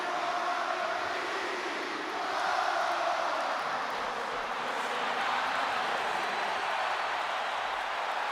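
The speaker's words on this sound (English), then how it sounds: "And this capacity crowd just exploded." In the wrestling video game WWE 2K, a large capacity arena crowd roars in a steady, dense wash of cheering that swells slightly partway through and continues without a break.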